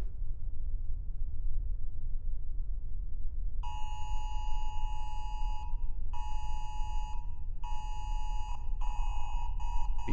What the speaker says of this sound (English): Oh, this is a phone alert.